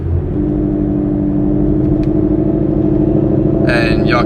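A Ford Mustang GT with a Corsa Extreme exhaust holds a steady, deep idle-to-revving rumble, heard from inside the car, loud and continuous with no speech over it.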